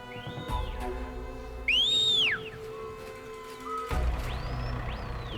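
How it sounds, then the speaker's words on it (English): A loud whistle calls a mount in a video game, sharp rising-and-falling chirps sounding over a steady ambient hum, with the loudest burst near the middle. "Fucking loud whistle."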